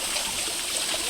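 Water pours steadily from an outdoor shower at a countryside stream, a close, dense continuous splashing rush with no pauses.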